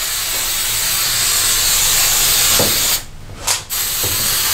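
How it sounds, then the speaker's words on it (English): Hairspray from an aerosol can hisses in a long, loud, continuous spray onto hair set in vintage pink snap-on rollers, broken by a brief pause and short burst near the end. "let's drown this. Because you know it's not good until the room is filled with hairspray"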